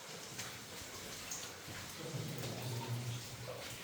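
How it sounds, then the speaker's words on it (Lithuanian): Small stream trickling through a limestone cave, a soft continuous wash of running water with faint splashes, fairly quiet and steady throughout. "O, vat ir upelis."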